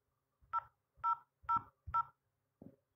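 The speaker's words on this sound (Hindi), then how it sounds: "कृपया इस बीप के बाद अपना 4 डिजिट का पासकोड दर्ज करें।" Five short telephone keypad tones on a Paytm customer helpline call, four evenly spaced key presses for a 4-digit passcode followed by a softer final beep, clear and alone with no talk.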